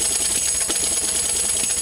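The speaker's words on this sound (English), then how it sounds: "a tambourine," Continuous shimmering jingle of a theatre organ's built-in tambourine effect, rapidly shaken and bright, sustained without pause and no voices.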